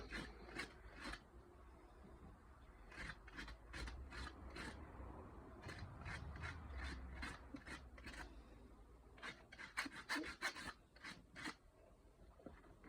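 A rasp files and smooths an animal's feet, trimming them straight across while it is prepared for a show: a series of short, scraping strokes in irregular bursts, fairly faint and close.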